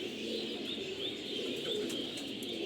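A black pigeon being held for sealing coos faintly while soft chirps come through a steady hiss of background noise, without speech.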